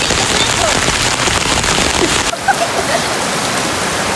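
Heavy rain pours down steadily during a rainy-season outing, a loud, close hiss of falling water that eases slightly partway through, with a few faint voices underneath.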